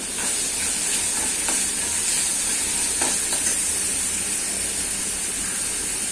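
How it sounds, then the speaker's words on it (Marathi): Tomato, coriander and mint dropped into a hot tempering for a field bean and snake gourd curry, giving a loud, even hiss and crackle of frying oil with a few faint stirring taps, no voices. "आणि टॉमॅटो कोथिंबीर आणि पुदिना मी सगळं फोडणीला घालते"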